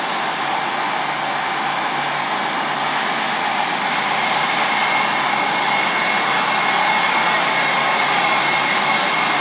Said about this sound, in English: The train now approaching platform 14 terminates here.